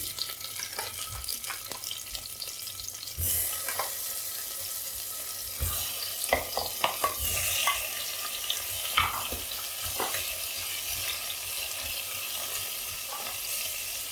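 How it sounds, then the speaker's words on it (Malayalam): Tomatoes drop into hot sesame oil in a pressure cooker for tomato chutney, a close sizzle that rises after a few seconds, with spoon clatter and short sputters scattered through it. "എണ്ണയിലേക്ക് നമുക്ക് തക്കാളി ഇട്ട് കൊടുക്കാം"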